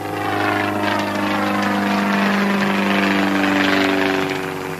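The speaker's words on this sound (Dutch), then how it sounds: "Het is maar een vliegtuig." An airplane flies overhead during an outdoor film shoot, its engine producing a continuous loud droning hum with steady tonal layers that swell slightly and then ease off, with no voices.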